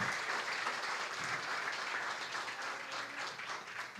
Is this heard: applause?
yes